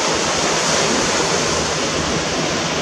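Loud, continuous roar of ocean surf close by on Maui, a broad rushing wash with wind mixed in and no voices.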